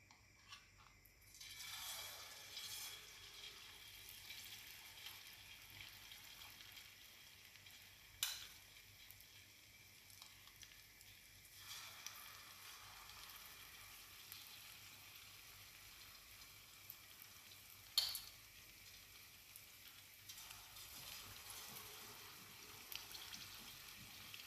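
Zucchini fritter batter, dropped by spoonfuls, sizzles and fries in hot oil at about 170 °C, a steady crackling hiss that rises at intervals as new batter goes in, with occasional sharp clicks of utensils.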